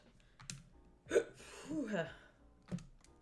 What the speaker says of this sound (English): It was a burp that wanted out.